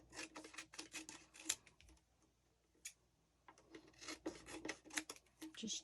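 Scissors trimming paper pictures wrapped around a vase, giving close, crisp rasping snips in quick irregular bursts separated by short quiet gaps.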